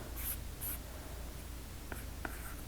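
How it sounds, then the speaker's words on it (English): Pen writing a number on paper while tallying cash envelopes, with a few quick scratchy strokes near the start and two short taps toward the end, close and fairly quiet. "I'll write that down here."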